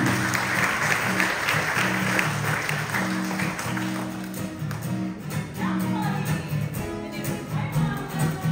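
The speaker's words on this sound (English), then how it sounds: "Round of applause for them." A crowd claps for poi performers at a Polynesian cultural show in Aotearoa, a sustained, fairly loud patter of applause that thins and swells again over several seconds with no speech.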